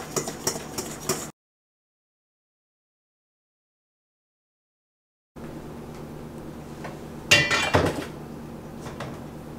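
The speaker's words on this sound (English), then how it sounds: "Just to mix in the soda" A spoon clinks and scrapes against a mixing bowl while baking soda is stirred into carrot cake batter, in short bursts with a silent gap, then a louder clatter near the end.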